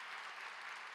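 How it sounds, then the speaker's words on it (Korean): Steady applause from a church congregation fills the second without a break, a dense even patter at moderate distance with no voices over it. "박수하겠습니다."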